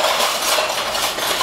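Metal measuring spoons jangle and clink together in a brief, loud, dense burst of rattling metal with no speech.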